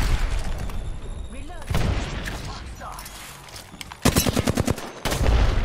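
Gunfire in Apex Legends, with a burst of sharp, evenly spaced shots around the four-second mark standing out from dense game noise, and people talking over the action.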